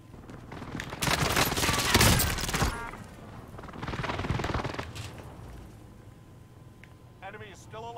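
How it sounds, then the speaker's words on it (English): An airstrike in Call of Duty Warzone on Rebirth Island hammers down as bursts of rapid gunfire and explosions, loud for a few seconds, then easing into rumbling noise under a voice. "Transmitting coordinates for airstrike. This is Phoenix 3. Strike inbound."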